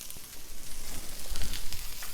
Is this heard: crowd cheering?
no